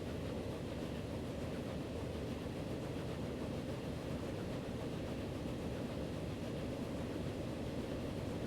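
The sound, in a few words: train passing in video game Transport Fever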